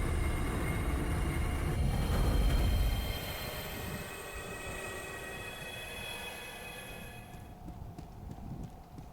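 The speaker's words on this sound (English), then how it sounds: "they have a railway system down here" A train rumbles past on an underground railway in the Half-Life video game, loud heavy rolling noise with clanking wheels and a metallic whine that gradually fades into distance.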